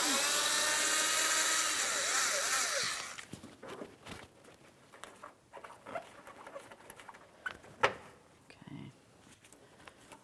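On a 2007-2014 GMC Sierra 2500 HD, a power driver with an 8mm socket whines loudly for about three seconds while backing out a bumper fascia screw, then stops, leaving faint clicks and handling noises.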